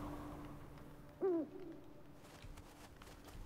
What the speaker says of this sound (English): Where is the owl? Where do I hear the owl?